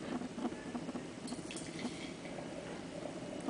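Green Point sparkling rosé wine poured into an etched crystal glass, a faint steady fizzing and splashing trickle, close by and quiet.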